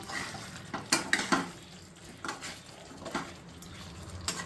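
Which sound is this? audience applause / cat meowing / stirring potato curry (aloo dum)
stirring potato curry (aloo dum)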